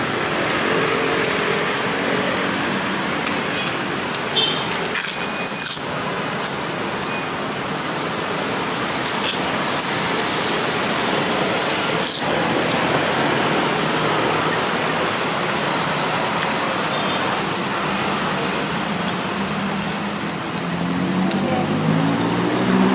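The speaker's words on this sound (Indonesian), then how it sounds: "di pinggir jalan memang ribut, banyak kendaraan lalu lalang atau lewat-lewat" Busy roadside traffic in Makassar forms a loud, unbroken wash of passing vehicles and engine noise, with a few brief knocks over the steady roar.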